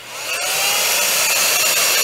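A heat gun used for shrinking heat shrink tubing blows hot air in a loud, steady rushing whoosh that ramps up at the start and then holds constant, close to the listener.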